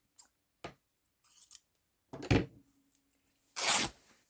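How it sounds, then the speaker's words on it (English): Sewing scissors snip through blue gingham fabric in a few short, crisp cuts, spaced irregularly with quiet pauses between, close and fairly loud. "where's my sewing scissors?"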